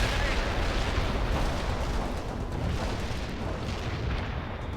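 Sustained rumbling barrage in the Soviet Assault campaign of the strategy game World in Conflict, a dense continuous wash of booms and blasts with no distinct gaps, steady in loudness; no talking.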